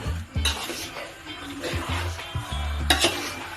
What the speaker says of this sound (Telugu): ఉప్పు వేసిన తర్వాత ముక్కలు చక్కగా తిప్పుకోవాలి